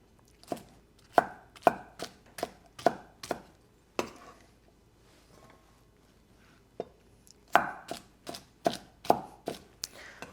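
A knife roughly chops Persian cucumbers on a cutting board in two bursts of sharp, evenly spaced thuds, close and crisp, separated by a short quiet pause.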